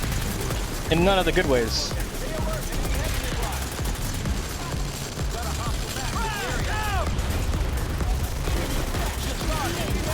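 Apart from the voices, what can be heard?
gunfire in Planetside 2 video game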